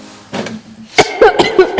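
A person coughs several times in short, close, loud bursts, with rough vocal sounds in between.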